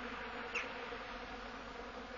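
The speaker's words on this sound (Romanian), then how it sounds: "Albina este activă." Honeybees buzz around an active hive in March, a steady faint drone of many wings with one brief closer pass, outdoors and without voices.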